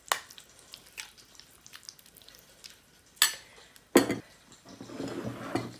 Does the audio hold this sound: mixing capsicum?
yes